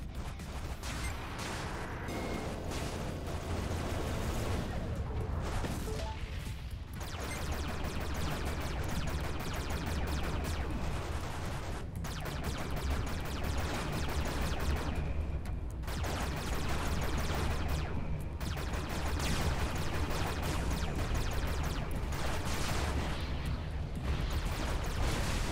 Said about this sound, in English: that's a pretty big explosion.